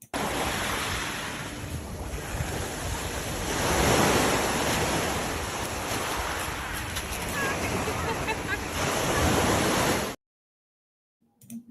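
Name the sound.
ocean waves at the beach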